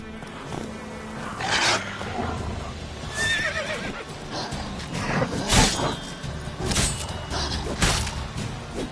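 Roach, a horse in the video game The Witcher 3, gallops with drumming hoofbeats and lets out several neighs and whinnies, loud and close, with scattered game effects around it.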